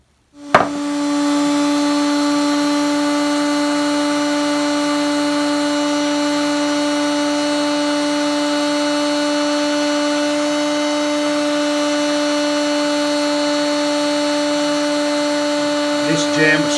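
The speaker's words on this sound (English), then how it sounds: "Use a heat gun, heat it up, and usually they'll pull right out." Heat gun warming capacitor cans in a 1961 Philco Briefcase 19 television, a loud steady blowing drone with a fixed motor hum, switched on with a click and running unchanged for about sixteen seconds.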